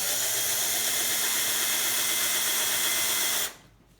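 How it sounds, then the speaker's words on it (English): A drill bores into metal on a bicycle crank part, a loud, steady whirring grind with a high hiss that holds evenly for about three and a half seconds and then cuts off, leaving quiet. "it's the drill starting to drill until it has eaten into the metal to the full diameter of the drill bit"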